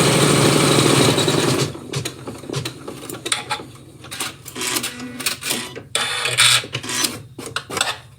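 An embroidery machine stitches a zigzag finishing border on a festive New Year design, a loud dense mechanical rattle for the first second and a half, then quieter intermittent clicking and whirring bursts continue through the rest.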